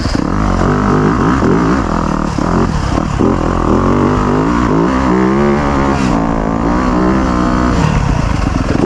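A 2025 Yamaha YZ250F dirt bike with its stock exhaust runs close by, its engine note shifting steadily as it revs and settles, loud and continuous with no talk over it.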